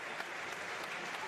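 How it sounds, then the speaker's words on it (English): Steady broadband applause from both sides of a boys high school basketball crowd during a game, a continuous even wash of clapping without pause. "gets a nice round of applause"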